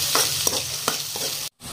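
Finely chopped onions sizzling in a pan, stirred with a few sharp scraping strokes over a steady fry, cut off abruptly near the end.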